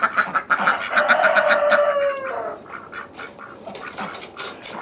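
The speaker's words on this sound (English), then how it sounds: "The ducks don't seem to care about cold weather." Ducks on a snowy winter farm quacking and chattering in a steady overlapping burst, close and fairly loud, then thinning to scattered calls.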